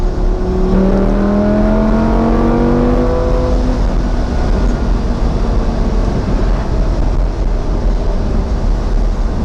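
A Lamborghini Gallardo Spyder with a gated 6-speed, top down, pulls hard with a loud, rising engine note that settles into a steady roar over road and wind noise, with no talking.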